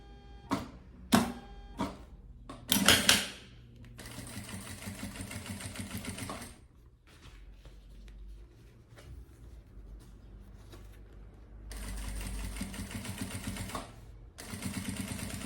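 Sewing machine stitching the top edge of fabric for a carry-on travel bag: a few short clicks and bursts, then sustained running stitches in two long stretches with a quieter pause between, close and clear.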